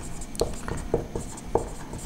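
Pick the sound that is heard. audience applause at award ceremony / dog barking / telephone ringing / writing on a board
writing on a board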